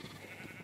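A sheep in Minecraft gives one short, close bleat, clear and alone.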